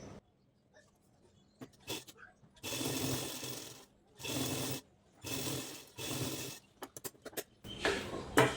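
A sewing machine runs in several bursts of a few seconds each, stitching the raw edge of blouse fabric, with short pauses and small handling noises between the runs and no speech.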